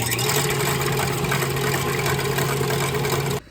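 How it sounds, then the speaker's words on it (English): A stand mixer with a whisk attachment runs at high speed, whipping milk into cold foam for an iced cherry chai: a loud, steady motor whir that cuts off abruptly at the end, with no talking. "We're gonna get this up to a high speed, and we're gonna let it whisk that until it gets to be nice and thick."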